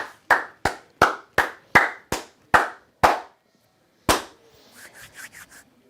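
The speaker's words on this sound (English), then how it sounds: "I'll give a nice little golf clap to old Pete Golden." Slow, light golf clap: about nine crisp, evenly spaced single hand claps close by, a pause, one more clap, then a few softer, quicker pats.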